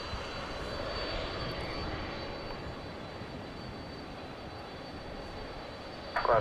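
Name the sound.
UPS Boeing 747-400 jet aircraft engine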